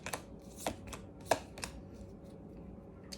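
Tarot cards are drawn from a deck in a few soft, close riffles and slaps, two sharper card snaps standing out early, then quieter handling over a low hum.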